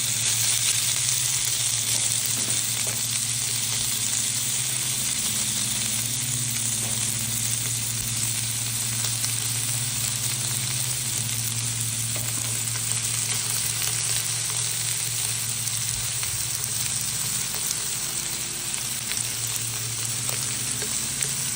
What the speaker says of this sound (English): They're going to sear for about 1 to 2 minutes on each side.